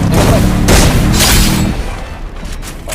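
Loud, dense gunfire and heavy booms from a shooting video game during a tournament match, rattling continuously before thinning out toward the end.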